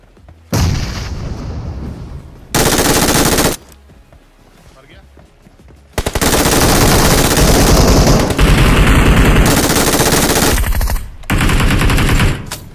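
A mobile video game shootout: loud, sustained bursts of automatic gunfire separated by short quieter gaps, close and dominant.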